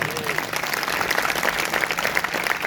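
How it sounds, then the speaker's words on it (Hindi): Listeners at a Hindi church sermon break into vigorous applause, a thick, continuous crackle of many hands clapping at close range that keeps up at an even level for the whole stretch. "सभी जोरदार तालियां बजाएंगे।"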